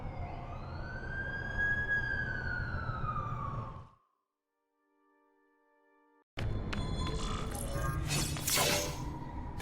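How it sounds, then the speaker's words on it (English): Wailing ambulance siren in The Amazing Spider-Man 2 video game, a loud rising-and-falling tone that cuts off abruptly, followed by near silence and then a burst of clattering, shattering game noise. "That's the ambulance I called."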